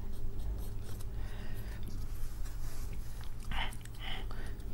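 Marker or chalk scratching across a board during an accounting lesson, a few short strokes in quick bursts toward the end over a steady low room hum.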